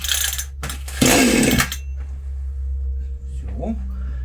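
A cold chainsaw with its choke closed gives a short, loud burst of engine firing after a few pulls on the starter cord, then quickly dies back to a low steady hum.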